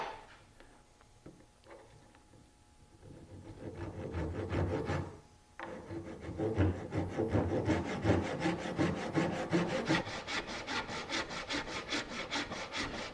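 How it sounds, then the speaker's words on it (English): Steady back-and-forth rasp of a hand saw cutting a wood blank for a molding plane, close and continuous, with strokes growing more even and rhythmic as the cut deepens. "it's just a matter of saw until you get to this full depth"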